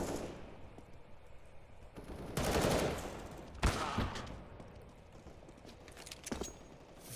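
Rapid gunfire in a CS:GO match, with bursts and sharp single shots spread over a low, steady game backdrop, a heavier volley in the middle and scattered cracks after.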